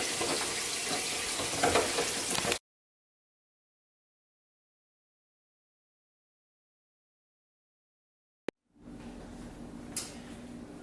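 Water runs from a kitchen sink tap while dishes are washed, a steady close hiss that cuts off abruptly into silence and then resumes more faintly a few seconds later.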